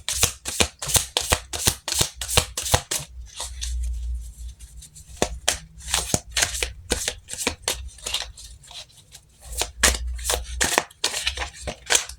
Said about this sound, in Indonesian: Kita langsung shuffle kartunya